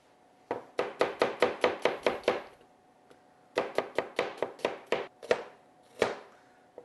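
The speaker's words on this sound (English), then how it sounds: "Just lengthwise, rough chop" Shallots are rough-chopped lengthwise with a knife on a board: two close, crisp runs of about eight rhythmic chops each, separated by a pause, then a few slower single cuts.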